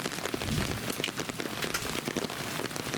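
Rain pattering steadily on a vineyard in July, a dense close patter of drops with no talk.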